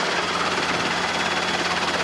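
A Robinson R22 helicopter taxis during a training flight, its engine and rotor giving a loud, steady, close droning roar with a faint rhythmic beat, heard alone with no talk.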